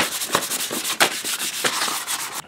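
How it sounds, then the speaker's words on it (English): Fine 500-grit sandpaper rubs over a primed movie-prop scanner piece in quick, repeated back-and-forth strokes, producing a close, steady scratchy hiss with no talking. "I wanna give everything a really fine sanding, 500 grit paper."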